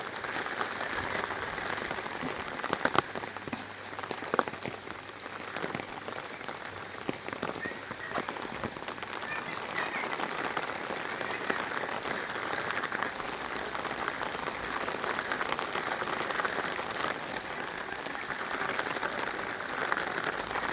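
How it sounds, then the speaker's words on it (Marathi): Heavy rain pouring steadily on surfaces, a dense continuous hiss with scattered louder drops, no voices. "आज काय पाऊस होतो"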